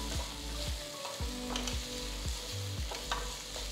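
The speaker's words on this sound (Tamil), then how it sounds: "2-3 நிமிஷத்துக்கு தக்காளி நல்லா சாஃப்டாக ஆகிற வரைக்கும் வதக்குங்க" Two finely chopped tomatoes sauté in a hot pan, a steady close sizzle broken by rhythmic scraping strokes of a stirring spoon roughly every half second, with no voices.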